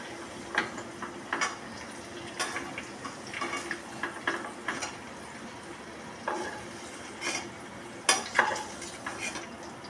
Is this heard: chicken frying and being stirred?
yes